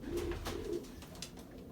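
Young pigeons in a loft cooing low and soft, a couple of throaty coos near the start followed by quieter rustling, close by with no talking.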